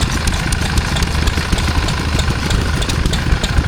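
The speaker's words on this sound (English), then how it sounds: "There it is. Massey Ferguson 135." A Massey Ferguson 135 tractor engine idles nearby at a rural show, a loud steady chugging rumble with a fast even rhythm and no voices.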